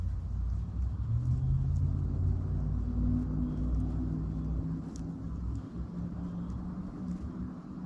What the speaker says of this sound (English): now that sounds like a muscle car racing someone